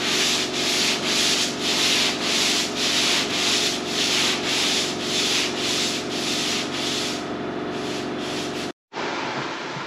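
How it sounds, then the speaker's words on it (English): A rotary sander works across the metal roof of a vintage Datsun 521 pickup truck, a loud, close, continuous abrasive hiss with a gently pulsing rhythm, cutting off abruptly near the end before resuming, no talking. "let's sand this roof off"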